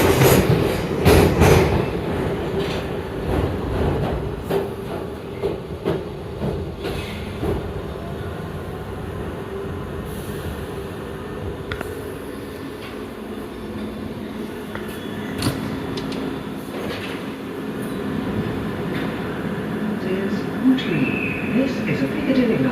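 A London Underground Piccadilly line train runs steadily, with a continuous low rumble and wheel clatter. A few louder bursts come near the start, and an announcement voice is heard over the train noise.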